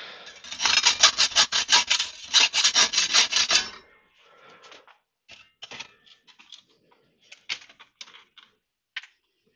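Rasping, rubbing strokes of deburring a rear reflector part for a BSA B50 Gold Star motorcycle refurb, a dense rhythmic burst of filing for a few seconds followed by sparse, quieter scrapes and taps, close and with no talking.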